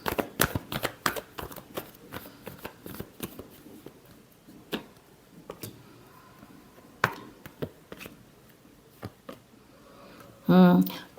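Tarot cards are shuffled by hand in quick bursts of flicking riffles and soft slaps, close and fairly quiet, thinning into scattered taps toward the end.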